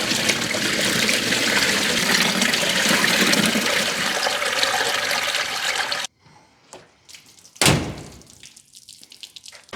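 A hat dunked into a cooler full of water gives a loud, continuous splashing rush for about six seconds, then stops abruptly, leaving faint drips and one brief sharp splash.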